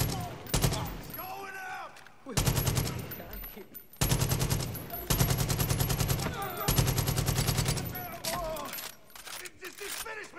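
Bursts of automatic gunfire from the video game Far Cry 5 crackle in rapid volleys with short pauses, loud and close, while a player shouts over the shooting.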